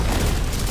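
A grenade explodes in Destiny 2 as one short, loud, booming blast with a dense, rumbling body.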